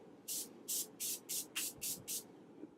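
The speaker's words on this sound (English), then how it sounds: "This is the Morphe Prep and Set Makeup Setting Spray." Seven short, crisp hisses of Morphe Prep and Set makeup setting spray from an aerosol can, evenly spaced pumps fired close up in a quiet room.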